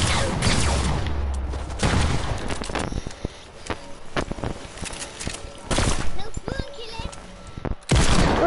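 Hand cannon gunfire in a video game rings out in sharp, loud bursts and rapid volleys across the stretch, set among busy game effects, with people talking over it.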